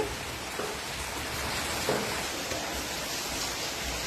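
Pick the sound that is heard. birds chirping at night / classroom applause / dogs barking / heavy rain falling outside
heavy rain falling outside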